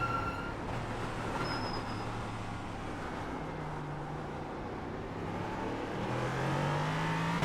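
A race car in the iRacing video game circuits a wet Suzuka track in the rain, its engine a steady, moderately loud drone with shifting tones and a rising note near the end, with no talk.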